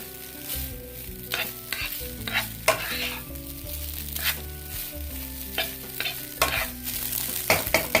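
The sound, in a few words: veg fried rice tossed in a pan on high flame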